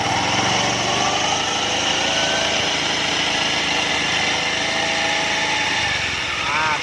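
An automatic scooter engine with a CVT pulley runs continuously under throttle, a loud, steady high-pitched mechanical whine and rattle filling the whole stretch with slight shifts in pitch, close and alone without talk.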